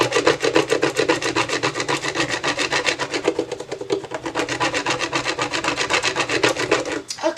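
Steady rhythmic rubbing of a burnishing tool over layered craft vinyl, a fast back-and-forth scraping that runs loud and close throughout with no talking.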